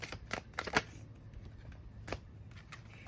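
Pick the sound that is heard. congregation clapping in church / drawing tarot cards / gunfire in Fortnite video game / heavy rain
drawing tarot cards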